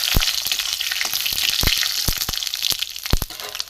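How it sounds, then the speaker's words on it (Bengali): A dry red chilli and a bay leaf drop into hot oil in a heated pan, sizzling and crackling steadily up close, with sharp pops and spits scattered throughout. "আমি এতে একটা শুকনো লঙ্কা দেব, একটা তেজপাতা দেবো"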